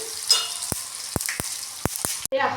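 Asafoetida and sesame seeds go into hot oil for a khandvi tempering, a continuous close sizzle punctuated by several sharp spattering pops, ending with a brief clatter.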